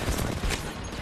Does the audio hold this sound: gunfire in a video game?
yes